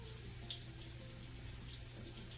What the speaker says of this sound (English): so I'm gonna have to add some water